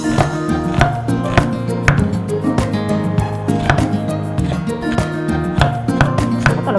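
Knife chopping onions on a cutting board for coconut-milk squid stew with pechay, a steady run of sharp, close taps at an even pace with no talking.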